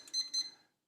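An inexpensive home treadmill gives two short, high electronic beeps in quick succession, fairly quiet and isolated in an otherwise silent room.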